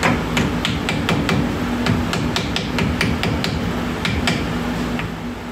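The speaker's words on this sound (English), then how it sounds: "Hammer." Rapid, sharp metallic taps of a hammer, struck repeatedly in quick succession at close range, while installing front disc brakes on a 1963 Pontiac Grand Prix.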